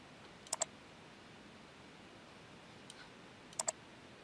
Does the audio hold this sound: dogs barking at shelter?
no